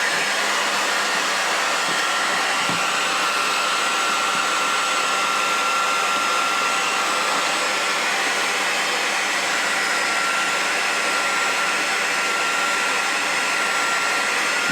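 A heat tool blows continuously at close range to heat model kit plastic, giving a loud, steady, even whoosh with a constant whine throughout and no talking.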